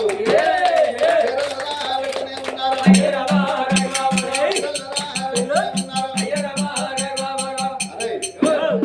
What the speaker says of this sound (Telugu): మనం చప్పట్లు కొట్టమన్నప్పుడు చప్పట్లు కొట్టాలి